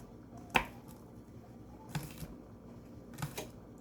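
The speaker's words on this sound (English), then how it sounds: "And now I'm just thinly slicing up the whites." A knife thinly slices scallion whites on a cutting board, giving three sparse, faint taps spaced over a few seconds in a quiet kitchen.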